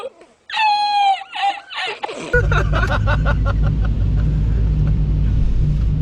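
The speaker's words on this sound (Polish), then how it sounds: "Dobra, auto zapaliło." A VW Caddy 1.9 TDI diesel, 105 hp, left standing for two years, cranks and catches, then settles into a loud, steady, close diesel idle rumble; laughter and voices come just before the start.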